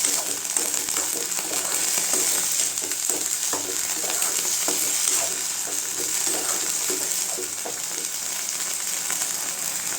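Drumstick flowers fry and sizzle steadily in a pan for murungai poo poriyal, with a constant close hiss and scattered soft clicks of stirring throughout.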